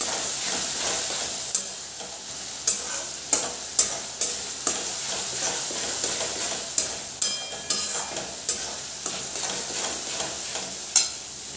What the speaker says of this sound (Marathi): गॅसची फ्लेम लो ठेवायची आणि लो ह्याच्यामध्ये व्यवस्थित आपली फोडणी शेकून घ्यायची